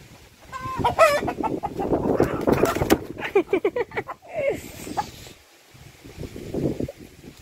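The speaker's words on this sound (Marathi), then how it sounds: "कोंबडा पकडला बघ" A rooster clucks and squawks in agitated bursts close by as it is caught and handled, with people talking around it, then a quieter stretch with more chatter.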